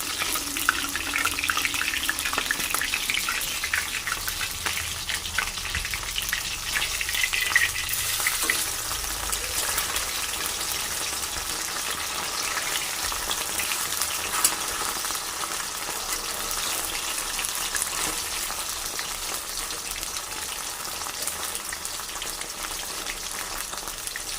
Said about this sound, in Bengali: তেলটা একটু বেশি করে দিলাম পুরো ছাকার তেলে ভাজা হবে তেলটা গরম হয়ে গেছে